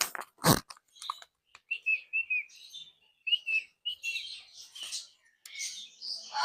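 Pet budgies in an aviary give a run of short, bright chirps and trilling calls, fairly close and lively, with one sharp knock near the start.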